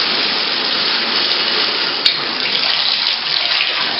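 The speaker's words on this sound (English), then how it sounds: "this faucet opens and closes." A bathroom faucet runs with a steady, even hiss of water, close and continuous throughout, with a faint click partway through.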